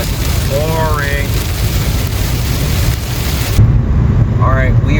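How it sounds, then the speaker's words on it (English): Heavy rain pours steadily on a vehicle driving through New Mexico, a constant loud wash of water mixed with road and wind noise, with a few faint chirping squeaks. "Pouring down rain."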